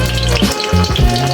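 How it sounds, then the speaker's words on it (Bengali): Meatballs dropped one by one into hot oil, a loud close sizzle that surges and dips in short bursts as each ball goes in, with no voices. "এখন আমি এক এক করে তেলের মধ্যে মিটবলগুলো ছেড়ে দিচ্ছি।"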